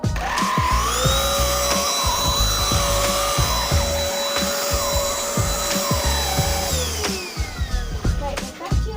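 A Hoover vacuum cleaner runs steadily up close with a loud whining motor tone that wavers slightly, then winds down near the end, with voices talking over it.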